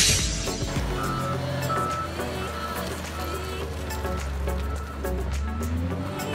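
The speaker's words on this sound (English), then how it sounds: "A wheel loader is a type of heavy equipment used in construction and manufacturing to move or load materials" A wheel loader, heavy construction equipment, operating with a steady low engine drone and rumble, plus faint clinks and mechanical rattles, continuous and fairly loud throughout.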